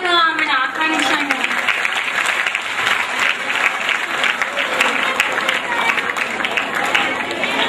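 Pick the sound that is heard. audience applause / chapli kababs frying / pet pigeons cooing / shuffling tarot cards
audience applause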